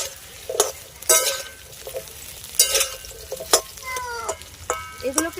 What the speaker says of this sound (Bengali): কাঁচকলা সজনে ডাঁটাকে কিন্তু আমি একসঙ্গে ভেজে নেব এবার নেড়ে নেবো